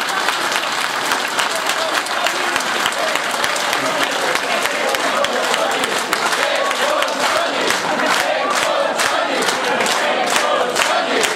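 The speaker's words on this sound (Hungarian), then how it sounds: "Nagy tapsot!" At a women's choir performance, an audience gives a big round of applause, loud dense clapping sustained for over ten seconds with crowd noise and a few shouts mixed in.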